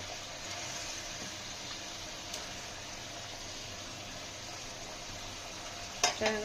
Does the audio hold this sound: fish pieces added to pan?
yes